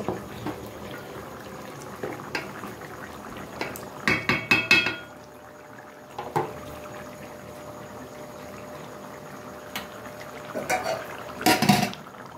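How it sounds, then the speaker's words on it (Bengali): Meat and pulao stirred in a cooking pot on a gas stove, a few short bursts of metal spoon scraping and clattering against the pot separated by quiet simmering, close and moderately loud. "এইভাবে একটু নাড়িয়ে দেব।"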